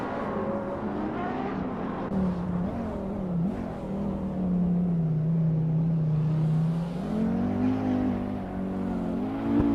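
Aston Martin Vantage AMR race car in a racing video game, its engine droning steadily with the pitch dipping and rising as it revs and shifts, clear and continuous.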